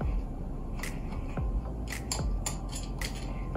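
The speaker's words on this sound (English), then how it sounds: "And just continue to cut the thread out." Scissors snip thread from a glam Dollar Tree apothecary jar, a few sharp metallic cuts with faint clicking between them, close and fairly quiet.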